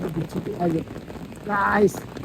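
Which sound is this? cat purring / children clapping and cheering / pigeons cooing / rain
rain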